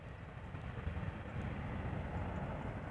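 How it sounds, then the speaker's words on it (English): Ryanair Boeing 737 MAX 8 jet, two years old, departing Amsterdam Schiphol for Dublin: a steady, fairly distant low roar of jet engines holding evenly throughout, with no talk. "This was Ryanair going to Dublin, flight 421, a MAX 8, 2 years old"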